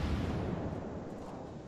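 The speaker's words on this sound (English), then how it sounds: "And I begin firing at the Omaha" Naval guns of the cruiser HMS Perth in World of Warships firing on the Omaha, a rumbling, booming barrage that rolls on steadily and fades slightly, heard without any talk.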